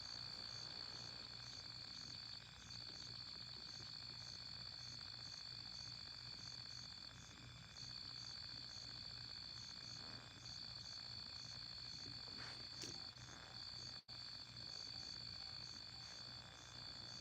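Frogs croak softly in an outdoor night chorus, steady and faint, mixed with a constant high insect trill and no one speaking.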